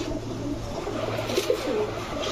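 Pigeons at a farm selling racer, giribaz and fancy birds, among them green-necked hens, murmur in low, soft coos beneath a steady low hum, with a few slightly louder calls near the middle.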